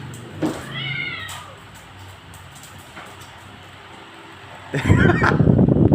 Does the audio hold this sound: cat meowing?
yes